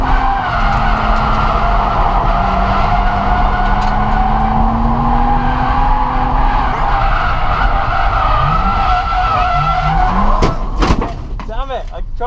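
A Nissan 350Z drifts and spins out at a factory track, tires screeching in a long loud squeal over a revving engine before the noise drops away, with someone talking over it.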